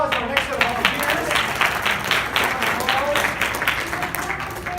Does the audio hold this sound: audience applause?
yes